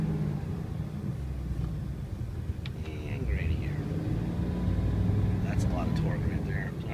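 Four-wheel-drive vehicle backing up in reverse, with a low engine rumble throughout and quiet talk over it.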